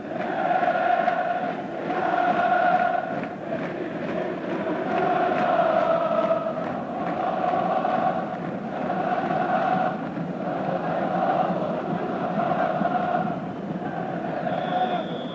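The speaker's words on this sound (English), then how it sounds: "the signal for the crowd to break into song again" Football crowd singing and roaring in a packed stadium at a 1993-94 Champions League match between Galatasaray and Manchester United, a dense sustained wall of chanting voices heard continuously under a commentator's talk.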